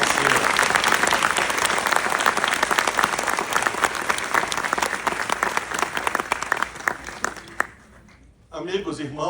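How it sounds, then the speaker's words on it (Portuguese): Loud, sustained applause from a crowd at a lecture fills most of the stretch, fading out near the end before a voice begins speaking. "peço uma salva de palmas a esse colega Mário Macera."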